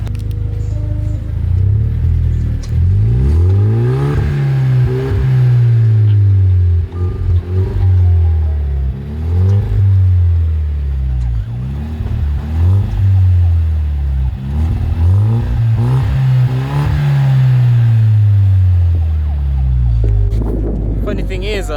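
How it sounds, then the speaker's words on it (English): Aftermarket exhaust on a 2013 Genesis Coupe rumbles through a series of revs, pitch rising and falling in repeated swells for about twenty seconds, loud and close with bursts of voices over it. "Give me a couple revs in your new car"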